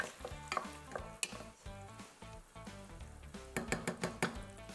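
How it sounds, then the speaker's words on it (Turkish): Onions and meat sauté together in butter in a pan, with repeated rhythmic scraping and clattering of a spoon against the pan over a steady sizzle, close and busy, a quick run of taps near the end. "hem soğanımı hem de etimi aynı anda atıp kavuruyorum"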